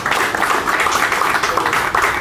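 Steady crowd applause at a fan gathering fills the whole stretch, dense and even, with many hands clapping at once and no break.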